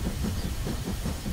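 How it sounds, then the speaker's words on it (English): A cartoon train chugs along its track in a children's animation, a loud rhythmic clickety-clack with hissing steam, heard alone without talk. "Mr. Train is going right."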